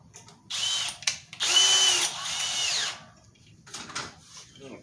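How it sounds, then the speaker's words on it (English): A power drill drives a screw through sheet metal on a van bed support, with two loud whirring bursts, the second longer with a rising whine, then a short fainter buzz near the end. "sticking a screw through the metal so I can put the two pieces together"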